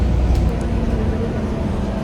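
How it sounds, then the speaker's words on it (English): Airport apron bus moving, heard from inside as a steady low engine and road rumble at moderate level, with no clear talk. "The bus is moving."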